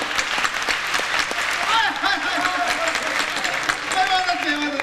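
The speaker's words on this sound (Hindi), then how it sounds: "इसके लिए तालियां" Steady applause from a crowd fills the whole stretch, dense and loud, with a voice speaking faintly beneath it.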